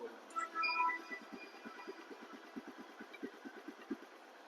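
A 2021–22 Hero Hunk motorcycle in fresh condition idles with an even, rapid thumping pulse, close and moderately loud, after a brief louder rev at the start.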